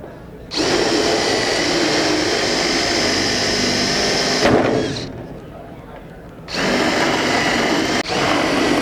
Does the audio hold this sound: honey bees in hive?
no